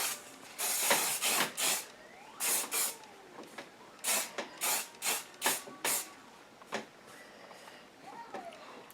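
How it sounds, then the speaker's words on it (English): Garnier volume hairspray hisses onto hair in a series of short, separate bursts, some quick pairs and some single puffs, close by and fairly soft with quiet handling noise between them. "All right, so I'm just gonna spray."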